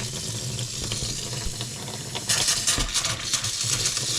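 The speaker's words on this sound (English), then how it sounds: "Oh, look at that. We got water in the trailer." Water runs from a faucet inside an RV trailer, a steady hissing flow that turns louder and more sputtery halfway through as air spits out of the line.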